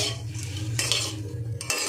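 Rice frying in a pan for zarda pulao, a sweet rice dish, with a utensil stirring and scraping against the pan. The scraping is close and fairly steady, with bursts of brighter scratching over a low hum.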